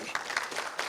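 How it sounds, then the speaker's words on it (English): Scattered clapping breaks out in the audience at a conference session as a speaker from IBM Cloud is welcomed, a brief burst of quick, uneven hand claps at moderate distance. "Clap."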